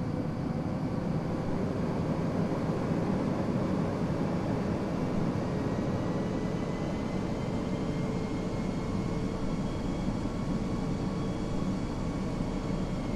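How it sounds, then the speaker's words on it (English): Twin jet airliner engines of a Flight Factor aircraft in a flight simulator, powering up during taxi: a steady, loud, broadband roar that holds unbroken throughout, with no voices. "Rev up the engines a few times to show you how it sounds during taxi"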